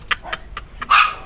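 A dog barks close by: four short, sharp yaps in a quick uneven run, then one louder, longer bark at the end, with no talking over it.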